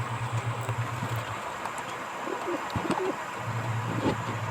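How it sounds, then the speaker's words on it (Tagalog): Soft pigeon cooing in low rhythmic bursts near the start and end as the pigeons are fed, with occasional light flutters and background ambient noise; no talking. "Kape po tayo habang ako'y magpapatuka sa aking mga kalapati."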